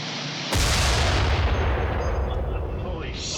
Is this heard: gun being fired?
yes